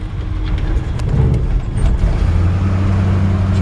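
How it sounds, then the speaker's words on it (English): A 1957 Chevrolet 3100 shortbed pickup with an automatic transmission idles while still warming up, a loud close low rumble with steady throb that holds the whole time, no one speaking over it. "Engine runs great."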